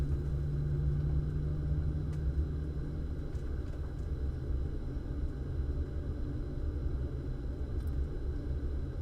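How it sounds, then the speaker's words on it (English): Engine number two of a Boeing 777-200LR spooling up in a flight simulator gives a steady, droning low rumble that holds evenly for the whole stretch, with no voices over it. "engine number 2 is starting it"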